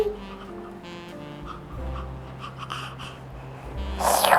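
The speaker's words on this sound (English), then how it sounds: "But Doggy was just licking it" A dog whimpers and snuffles close by while licking, soft breathy whines and wet snorting sounds under a quiet room hum, ending in a louder rustling burst.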